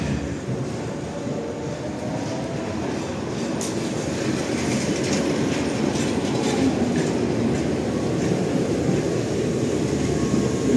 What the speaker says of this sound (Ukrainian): трамвай проїжджає